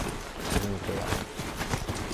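A robotic Strider mount from Horizon Zero Dawn trots with steady clip-clop hoofbeats against a busy game soundscape, fairly close and moderately loud.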